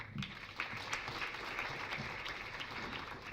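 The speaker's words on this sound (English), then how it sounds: "A round of applause. Mbona makofi madogo?" Audience applause at a students conference, a steady wash of clapping held at an even, moderate level throughout with no clear gaps, crowd noise filling the room.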